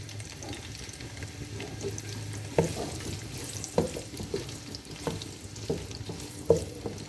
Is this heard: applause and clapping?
no